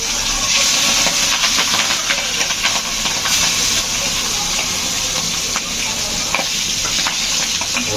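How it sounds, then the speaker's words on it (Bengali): Cumin seeds and bay leaves sizzle in hot oil as the tempering for mustard hilsa, a steady loud frying hiss that runs unbroken for several seconds with a few crackles and no talking. "এই যে জিরা তেজপাতা, ওটা তেজপাতা জিরা এবং তেজপাতা ফেলে দিয়ে দিলাম।"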